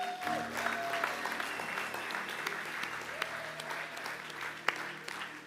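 Church congregation at a French-speaking service applauds, a dense, steady clapping from a crowded room that lasts throughout, close, with a faint voice and a held note underneath.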